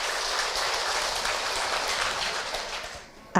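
A crowd at a women's Islamic study gathering applauds, producing a steady, dense patter of clapping that fades near the end before a short final burst.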